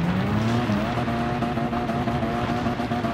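A car slides on dirt in the racing game Gran Turismo 7: a steady, loud engine drone with a rough skidding tire hiss running continuously through the short stretch.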